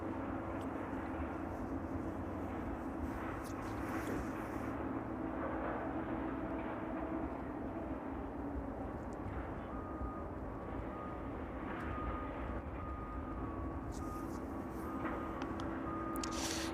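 An aircraft taxies in the distance toward the runway at East Midlands Airport on a chilly evening, a steady low engine drone and hum holding throughout under faint background noise.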